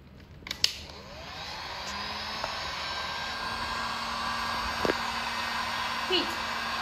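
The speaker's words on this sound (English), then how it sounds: "Heat the heat shrink tube." A heat gun blows steadily to shrink heat-shrink tubing on a waterproof fiber optic patch cord, a continuous close airy roar with a few brief clicks and knocks at the start.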